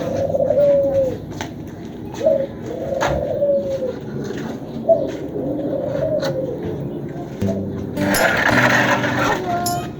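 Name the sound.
pet pigeons and birds cooing after being let out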